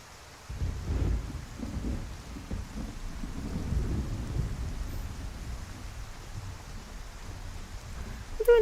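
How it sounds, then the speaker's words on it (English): Rain falls steadily in Skyrim VR while a deep rumble of thunder rolls in and lingers for several seconds, loud and close, with no talking. "It is raining though, isn't it?"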